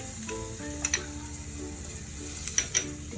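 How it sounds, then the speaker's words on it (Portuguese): Minced garlic sizzles steadily in melted butter in a pan as it starts to brown for a shrimp risotto, a continuous close frying hiss with a few faint utensil clinks. "E aí vou colocar o alho pra dar uma douradinha."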